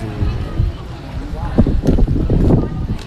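Wind blows steadily at the Patuxai monument in Vientiane, a broad, loud rumbling gust noise buffeting the microphone throughout, with faint voices mixed in.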